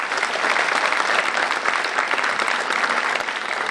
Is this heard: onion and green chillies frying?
no